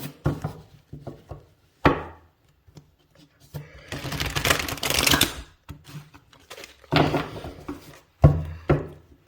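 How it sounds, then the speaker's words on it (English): Tarot cards being shuffled in several riffling bursts, soft flutters and taps between them, close and fairly loud. "let me shuffle again"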